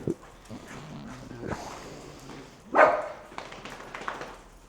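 A puppy gives a few short, sharp barks at close range, with the loudest burst near the middle, among light household movement and faint background sounds.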